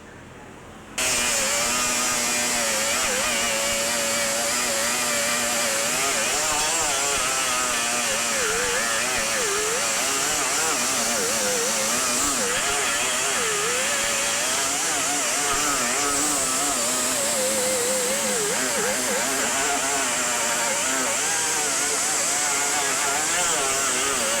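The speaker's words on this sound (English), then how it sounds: "Now I'm basically grinding all my weld off, getting ready for prep it for body work." A power grinder grinds weld off a car body patch panel, a loud continuous whine with wavering pitch that runs steadily for the whole stretch, close and unbroken.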